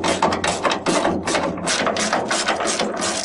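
Bolts on the front crossmember of a Renault 4L being tightened with 13 and 17 mm wrenches, a dense run of close, loud metallic clicks and knocks in quick irregular bursts, without speech.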